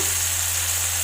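Spice paste being sautéed half-cooked in a pan for Indonesian sambal terasi, giving a steady, even sizzle with a low hum beneath, loud and continuous with no talking.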